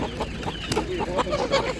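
Chickens cluck at a busy animal market, short clucks and fowl calls repeating under the low murmur and clatter of the crowd.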